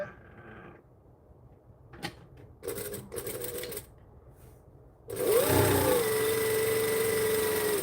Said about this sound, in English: I will be speed sewing like a speed demon today